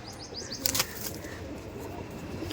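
A released male pigeon flaps its wings in a quick burst of sharp beats, loud and close, then a quieter ambient stretch with no talking.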